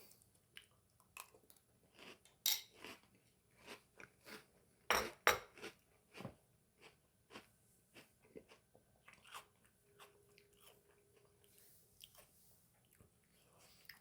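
Quiet sharp clinks and crunchy chewing of a spoonful of Kroovies Peanut Crazy protein cereal, scattered irregular taps and crunches close up, with no talking.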